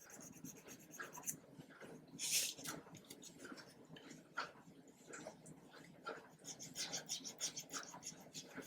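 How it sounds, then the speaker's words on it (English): Dry rasping strokes of a flat file worked against a hard plastic model kit part, irregular and close, with scattered louder scrapes and no talking. "I'm going to deal with them with a flat file"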